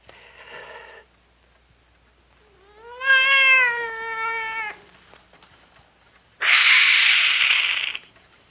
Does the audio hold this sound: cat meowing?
yes